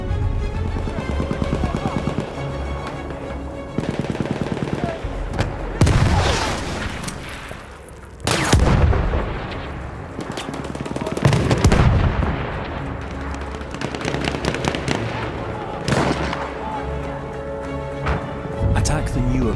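Enemy artillery barrage in the World War I shooter Battlefield 1, heavy booms and crackling blasts rolling in bursts beneath steady gunfire, while a voice talks over the battle.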